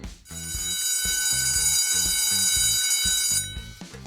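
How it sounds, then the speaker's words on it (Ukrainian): An electric school bell rings loudly in one continuous, harsh metallic buzz for about three seconds, then stops. "Не раз ви чули, як дзвенить електричний шкільний дзвоник."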